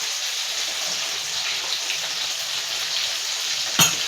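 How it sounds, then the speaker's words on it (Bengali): Parshe fish frying in a pan with black cumin and black pepper paste, giving a steady, close crackling sizzle that runs unbroken, with one brief clatter near the end and no talk. "ততক্ষণ মাছটা ভাজা ভাজা হতে থাকুক"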